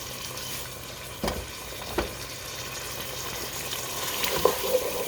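A pot of rice and beans frying steadily with a continuous sizzle, broken by a few soft scrapes and knocks of a spoon stirring through it, close up and alone.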